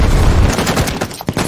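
Bursts of gunfire crackle through a war film scene about a mission to rescue a general held by ISIS, with loud rapid shots that thin out toward the end.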